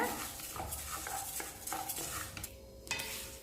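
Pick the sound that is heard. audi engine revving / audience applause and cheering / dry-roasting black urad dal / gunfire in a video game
dry-roasting black urad dal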